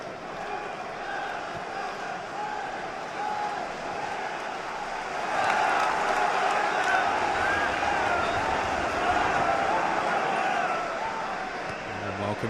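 A stadium crowd at a Sunderland v Ipswich Town Championship match swells into a steady roar of applause that stays in the distance throughout, with a commentator talking over it.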